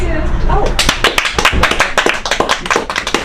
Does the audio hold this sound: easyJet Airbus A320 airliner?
no